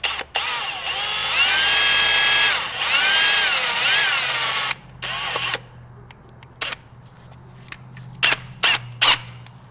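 A power drill bores a hole during a Subaru rear main seal replacement, running in a long steady whine with pitch shifts for about five seconds, then stopping and restarting in several short bursts.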